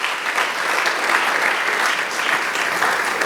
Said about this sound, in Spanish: ¿Cuánto le dan aplauso al Señor